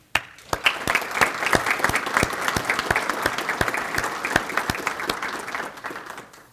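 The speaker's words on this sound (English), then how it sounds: "So I want to be the first to give you a round of applause for all of our honorees today" An audience at an awards luncheon claps, a sparse round of applause with distinct individual claps that swells briefly, then thins out and fades, with no talk over it.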